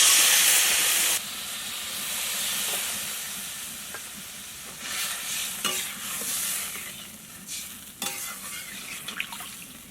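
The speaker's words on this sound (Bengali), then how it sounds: "এবার দিয়ে দেব ঝোলের মতো জল।" Water poured into a pan of small carp curry with tomato and ground coriander bursts into a loud steamy hiss, then eases into quieter bubbling with occasional clicks of a spoon or pan.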